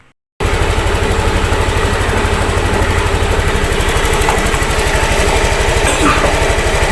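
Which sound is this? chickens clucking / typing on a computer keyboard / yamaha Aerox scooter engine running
yamaha Aerox scooter engine running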